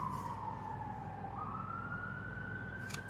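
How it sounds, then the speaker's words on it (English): An emergency vehicle siren wails steadily in the background, its tone sliding down and then back up over a constant low traffic-like hum, with no one talking. "Sirens are confirmation of Archangel Michael"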